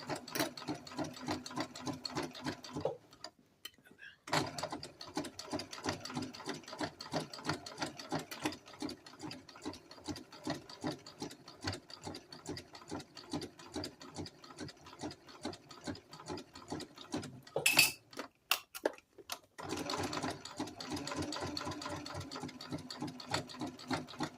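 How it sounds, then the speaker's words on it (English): A sewing machine stitches fabric while a jumpsuit is remade into a tunic top, with steady, rapid close-up stitching interrupted by two short pauses and no talking. "start off slowly, back stitch, so you lock your stitch in and continue on."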